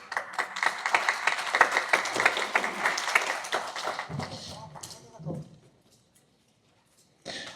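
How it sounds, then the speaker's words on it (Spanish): Applause from a seminar audience after a talk on antimicrobial resistance, dense clapping mixed with voices that tapers off, falls to silence, then a short burst of sound returns. "Un fuerte aplauso para todos"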